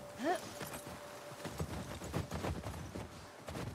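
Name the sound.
horse hooves from video game The Last of Us Part 2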